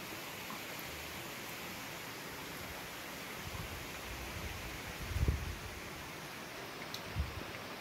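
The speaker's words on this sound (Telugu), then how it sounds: "పాలకుర్తిలో భారీ వర్షం" Steady broadband hiss of heavy rain in Palakurthi, constant and dense, with a couple of low thumps near the end.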